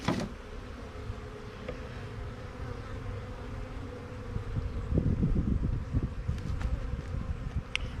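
A calm honeybee colony hums with a dense, steady buzz close by, swelling slightly partway through, with faint wind and handling noise underneath.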